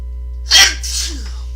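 A loud, close human sneeze, a sharp intake-and-burst followed by a softer trailing second puff, heard alone over a constant low electrical hum.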